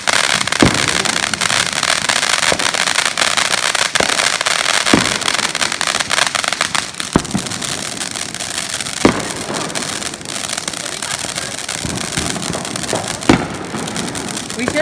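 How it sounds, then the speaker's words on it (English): Fireworks and firecrackers set off outdoors at a 4th of July celebration, sharp pops and bangs scattered across a steady crackling din, with people talking nearby. "they've been lighting fireworks"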